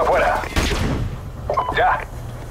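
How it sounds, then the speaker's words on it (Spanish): Flashbang grenade and gunfire in Call of Duty: a sharp burst and bang, then scattered shots, with voices talking over the action. "Granada cegadora afuera."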